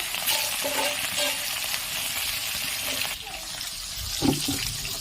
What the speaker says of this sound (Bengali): মাছগুলো খুব সুন্দর ফুটছে।